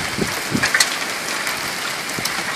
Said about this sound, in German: Oh, jetzt fängt es an mit Hageln.